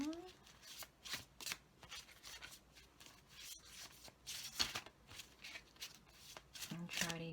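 Oracle cards are shuffled by hand, a soft, quick run of riffling and flicking bursts that repeats close by at low volume, with a faint voice in the background at times.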